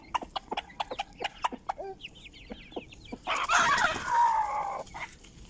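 Chickens in a coop give a rapid series of short clucks, then a louder, drawn-out squawking call from close by, with no talk over them.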